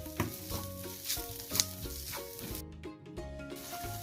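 Pepper powder masala for Kerala fish fry (meen pollichathu) is stirred in a hot pan, with a soft steady sizzle and scraping stirs heard under background music.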